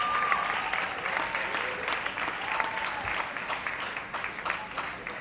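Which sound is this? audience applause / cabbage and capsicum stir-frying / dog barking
audience applause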